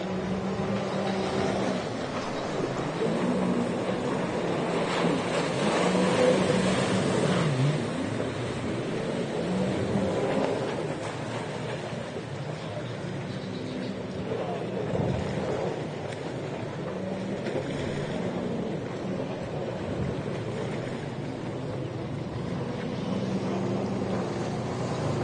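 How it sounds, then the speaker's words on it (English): Stock naturally aspirated Runabout jet skis race at a mudbug-themed nationals event in Morgan City, Louisiana. Engine drone carries steadily from a middling distance, mixed with wind noise on the microphone and no clear talk. "turn this ambient mic up so you can hear the skis go"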